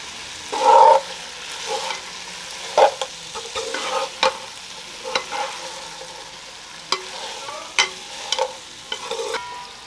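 Whole spices including cinnamon sizzle in hot oil in a pan for quail curry, with soft steady frying under intermittent scrapes and stirring clatter, close and without talk.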